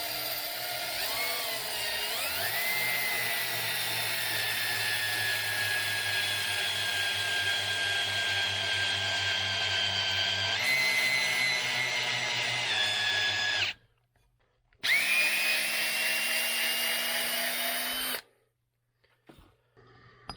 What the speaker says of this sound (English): we're going to ream these out, and what I'm going to use is an electric drill